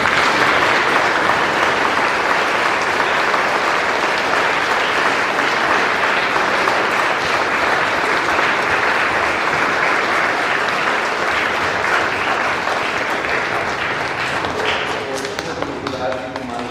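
A church congregation at a parish charity anniversary Sunday breaks into long, dense applause, sustained loud clapping throughout that thins slightly near the end.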